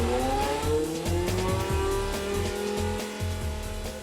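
A 3-litre V10 Formula 1 race car engine revs hard and steady at close range, its rising pitch sweeping upward with tire squeal and skidding mixed in, loud and continuous throughout.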